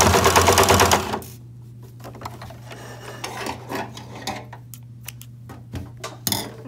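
A sewing machine runs fast and loud for about a second while stitching face mask pleats, then a low steady hum continues under scattered clicks and short rattling bursts.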